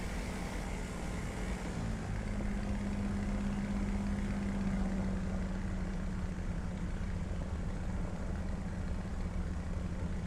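An aircraft engine in a flight simulator game hums as a steady, unbroken drone with a low tonal throb, holding at an even level throughout with no talk over it.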